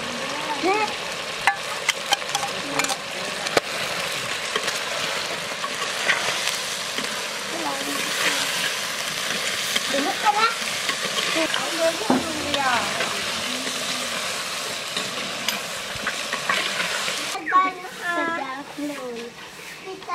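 A spice mixture with Kashmiri chili powder is stirred into duck meat in a pan, giving a continuous sizzle with scraping stirs and wet bubbling while a person talks over it.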